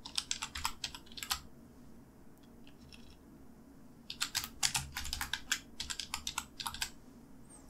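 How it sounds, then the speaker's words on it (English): Computer keyboard typing in bursts of rapid key clicks, with a pause in the middle before a longer run of quick keystrokes, close and clear with no talking. "I'll press enter on my keyboard."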